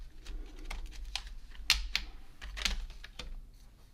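A Wi-Fi antenna slides and clicks into place on a mini ITX gaming PC build, several sharp plastic clicks and taps in an irregular sequence, close and crisp.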